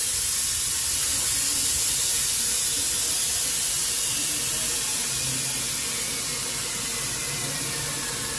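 Steam hisses steadily out of a pressure cooker being released after its whistles, a continuous loud, broad rush of vented pressure with no pauses and no voices.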